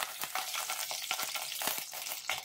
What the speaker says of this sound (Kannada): ಈಗ ಇದಕ್ಕೆ ಕರಿಬೇವು ಹಾಕ್ತಾ ಇದ್ದೀನಿ.